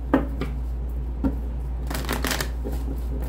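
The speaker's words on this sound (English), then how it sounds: "One more shuffle" Tarot cards are riffled and shuffled close by in several quick bursts, a crisp fluttering slap and rustle with brief pauses between.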